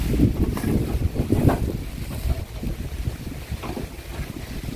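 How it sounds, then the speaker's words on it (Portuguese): Strong wind gusts and buffets the microphone with a steady roaring rush at a rural farm, no voices heard. "É, hoje tá ventando, pessoal. É barulho de vento"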